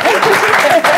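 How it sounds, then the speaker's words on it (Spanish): Loud applause and cheering for the winner of an entrepreneurship contest in Arica y Parinacota, with a voice speaking over the crowd. "queremos felicitar a Javier, así que le damos un aplauso."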